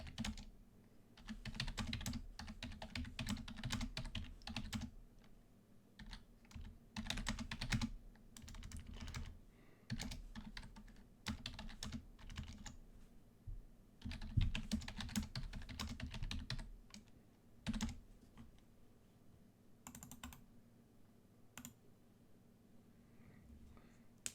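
Continuous typing on a computer keyboard, with dense bursts of key clicks broken by short pauses, close and fairly quiet, with a steady low hum underneath.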